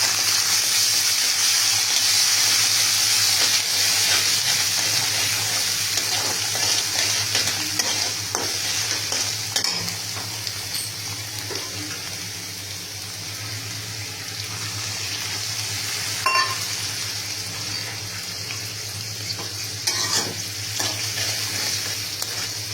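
Chhana and vegetable curry frying in a pan with cumin paste, a continuous loud sizzle with scraping stirs and occasional clinks of the spoon, fading a little midway, and no talking.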